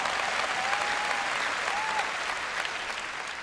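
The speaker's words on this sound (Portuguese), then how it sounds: "você não está aplaudindo tão alto quanto aplaudiu para outras coisas" A church congregation claps through a sermon, a steady, even wash of applause from a large crowd that holds throughout and fades slightly at the end.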